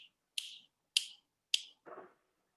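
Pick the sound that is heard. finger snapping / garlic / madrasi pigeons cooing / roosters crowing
finger snapping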